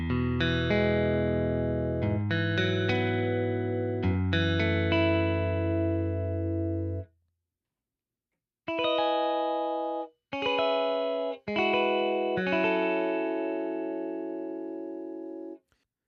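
Clean electric guitar played through a Fender Deluxe Reverb amp model, sustained chords and arpeggiated notes ringing with glassy highs and full lows, a few phrases separated by short silences, with light effects and reverb.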